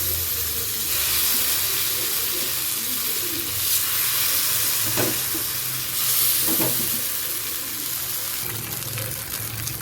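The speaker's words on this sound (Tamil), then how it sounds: "இப்போ நல்லா ஃப்ரை ஆகிட்டு இருக்கு" Food frying steadily in a pan for a home lunch, a continuous broadband sizzle with bubbling water-like crackle and a few brief stirring swells, close and fairly loud throughout with no talk.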